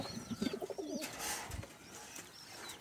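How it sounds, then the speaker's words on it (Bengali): Pigeons in a loft coo in soft, repeated bursts early on, with a brief flutter of wings and faint chirps following at low volume. "খুব সুন্দর কবুতর।"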